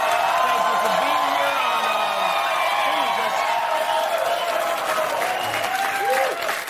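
A studio audience claps and whoops in a dense, sustained round of applause, with voices cheering and calling out over the steady clatter of hands.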